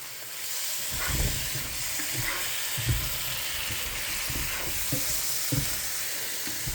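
Curry paste sizzling and frying in a hot pan while being stirred, a steady bright hiss with soft scraping stirs and small pops coming through at intervals, close and moderately quiet.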